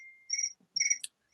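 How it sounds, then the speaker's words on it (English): Crickets chirping nearby, two clear chirp bursts with a short high click after, heard alone during a pause in a phone call. "You're probably hearing crickets."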